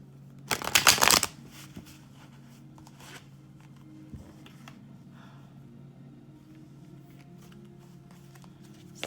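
A deck of tarot cards shuffled by hand in one loud, riffling burst lasting about half a second near the start, followed by faint handling noises and quiet room hum.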